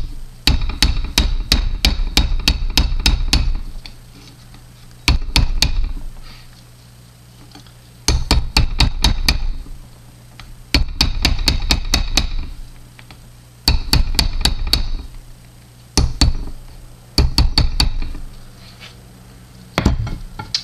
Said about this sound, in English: You can use your light ball peen, but you're just gonna just light pressure.